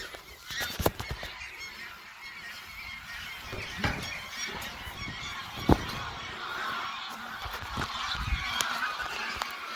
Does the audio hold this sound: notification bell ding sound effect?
no